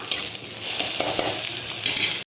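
Coriander chutney ingredients sautéing in a pan, giving a steady soft sizzle with a few light stirring scrapes, close by and without speech.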